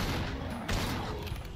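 A double-barrel shotgun in a modded Call of Duty game fires one loud, close blast that booms and rings out over about a second and a half, with no voices.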